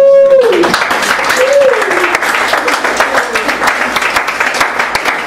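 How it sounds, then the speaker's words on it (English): Audience applause at a Beat Museum poetry festival reading, a dense wash of clapping that starts at once and carries on steadily, with a speaking voice over it at the start. "Hold the applause, but thank you"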